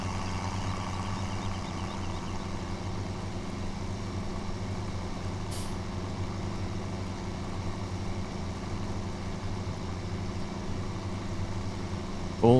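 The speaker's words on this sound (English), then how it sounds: "I got the case tractor on it." A Case tractor engine idles steadily in Farming Simulator 17. The low drone is continuous and even throughout, with a brief bright click near the end and no speech.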